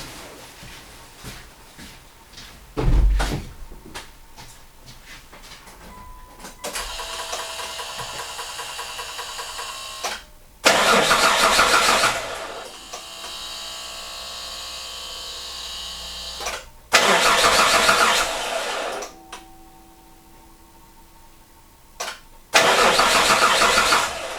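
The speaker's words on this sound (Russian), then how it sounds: "чтобы запустить двигатель." Repeated attempts to start a Mitsubishi Pajero 3 GDI engine after an injection pump filter change: several loud cranking bursts separated by quieter stretches, with the engine briefly catching and idling between tries.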